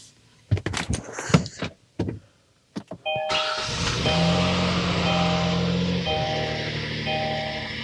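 A Kia Sorento with a 3.3L GDI V6 is cranked and fired up. A car door opens and shuts, then the starter whirs and the engine catches and settles into a steady, close idle hum.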